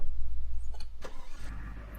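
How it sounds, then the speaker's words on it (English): A truck engine in the farming video game Farming Simulator 17 is started with a manual ignition, a short cranking sequence of a few clicks and bursts over a low, pulsing engine rumble, heard alone without talk. "I'm still getting used to starting the rig with a manual ignition."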